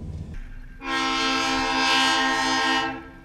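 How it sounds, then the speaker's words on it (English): Hobo Railroad train horn blasting close by in Maine, a loud sustained chord that swells in after a short quiet start and holds for about two seconds before fading, with no talk. "Hobo Railroad going by."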